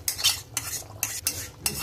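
Beef curry being stirred in a pan: a quick series of close metallic scrapes and clinks from a utensil against the pan, about five strokes over a faint sizzle, with no voices.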